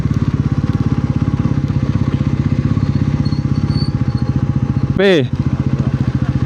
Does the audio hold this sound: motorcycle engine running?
yes